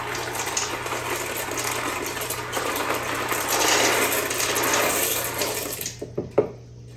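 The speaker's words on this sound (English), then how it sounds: "I'm just gonna pour it over the top of this" Liquid poured from a container over dry ziti pasta in an Instant Pot, a steady close splashing stream for about six seconds that cuts off, followed by a few light clatters.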